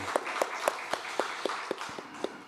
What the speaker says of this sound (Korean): 시험 친 친구들을 위해서 다시 한번 격려의 박수 부탁드립니다.